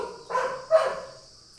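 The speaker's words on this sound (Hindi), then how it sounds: "लो टाइसन मम्मी भौंक रहे हैं।" A dog barks twice, two short muffled woofs a moment apart, fairly close and with nothing else around them.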